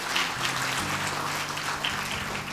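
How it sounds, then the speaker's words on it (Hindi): A church congregation claps hands together during a worship service, a dense continuous patter of applause filling the room. "तालियां बजा के प्रभु का धन्यवाद कीजिए"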